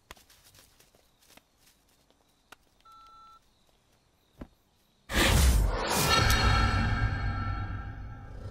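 On a button phone in a crime thriller scene, keypad tones beep briefly between soft clicks. A sudden loud, sustained rush of music or ambience then takes over.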